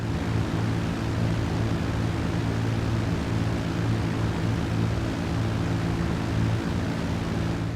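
Titan transport aircraft flying and coming in to land in GTA 5 Online, a loud, steady roar of droning propeller engines that holds constant without any talk.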